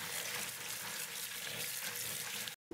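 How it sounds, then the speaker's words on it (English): Raisins being rinsed under a running kitchen tap, a steady loud rush and splash of water filling the sink that continues unbroken, then cuts off abruptly near the end. "Step one, wash the raisins, because they were filthy."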